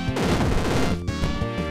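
Rapid, chaotic retro-style weapon blasts from the video game Super Crate Box, with shotgun and machine-gun fire overlapping in loud, harsh bursts with no pauses between them.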